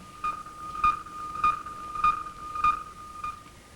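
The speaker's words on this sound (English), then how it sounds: "The pips of radar bouncing off the moon." Radar pips bounced off the moon, rendered as electronic tones: a steady train of five or six short, bright pips roughly every half second, each with a faint ringing tail over soft background hiss.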